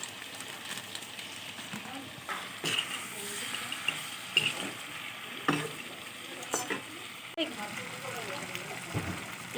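Broiler chicken meat frying with turmeric and chili powder in a pan, a soft steady sizzle broken by stirring scrapes and clinks, with a voice talking quietly at times.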